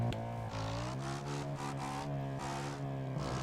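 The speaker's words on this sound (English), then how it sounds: "The engine sound is not as good on this bike as it is on the other one." A motorbike engine revs in the video game Overpass, its pitch climbing and falling through several throttle blips, loud and close with no voices over it.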